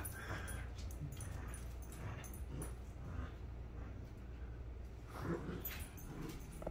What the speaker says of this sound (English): King Charles Cavalier Spaniel.